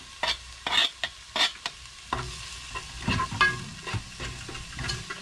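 Garlic sautés in a pan for chicken noodle soup, giving a soft, steady sizzle broken by repeated scraping stirs close by, with no talking.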